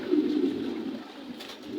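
Racing pigeons of a large, improved breed cooing softly in a loft, a low steady murmuring coo running throughout with faint rustling near the end.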